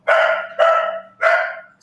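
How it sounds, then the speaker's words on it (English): A dog named Noela barks three times in quick succession, loud and close, each bark a full, sharp bellow with a short gap between them, indoors with no talking. "Excuse the dog."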